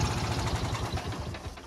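A New Holland 471 tractor engine idles close by, a steady, continuous rumble with a fast low throb that holds through the whole stretch with no talk over it.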